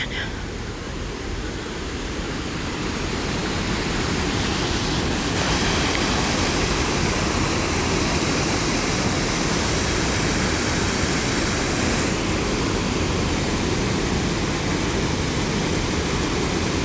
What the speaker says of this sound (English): Take a listen to that sound of the waterfall.